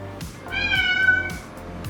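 A house cat meows in a drawn-out, rising and falling call lasting about a second, close and clear, with no talking over it.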